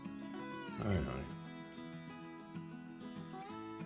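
A house cat meows in a garden while oak seedlings are being planted, one loud drawn-out meow near the start and fainter mews after, with a person briefly talking alongside.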